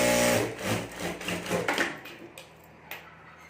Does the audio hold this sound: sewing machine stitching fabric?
yes